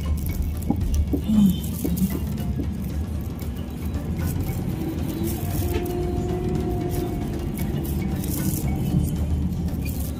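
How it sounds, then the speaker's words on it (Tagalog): Heavy rain falls in a steady dense patter outdoors at SM Bacoor, with a passing vehicle and a faint voice beneath the continuous wash. "Lakas din kasi ng ulan dito eh."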